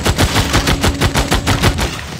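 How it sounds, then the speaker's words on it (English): Rapid machine-gun bursts from a strategy war video game crackle loud and close, about a dozen sharp shots in steady rhythm, with no talking. "Machine gun them again."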